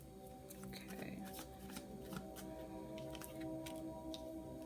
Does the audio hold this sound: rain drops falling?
no